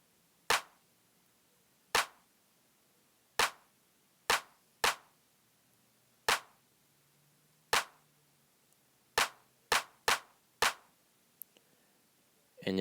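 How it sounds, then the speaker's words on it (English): Crisp, dry claps from a hip hop drum machine fire alone in a sparse looping pattern, about eleven sharp hits spaced unevenly with some quick pairs, each decaying quickly into near silence. "add 2 sets of claps from the hip hop drum machine"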